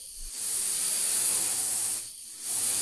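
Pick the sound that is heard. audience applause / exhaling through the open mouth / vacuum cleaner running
vacuum cleaner running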